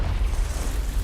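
A Confringo blasting spell explodes in Hogwarts Legacy with a short, heavy, rumbling boom that fills the whole second at steady loudness.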